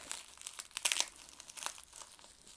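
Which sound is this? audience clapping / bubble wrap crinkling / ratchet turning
bubble wrap crinkling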